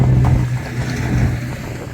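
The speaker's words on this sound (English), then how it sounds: "Petrol engine there." A passing motorboat's petrol engine gives a steady, fairly loud low drone with a constant hum that barely changes for the whole stretch, with wind-like rush over it and no talking.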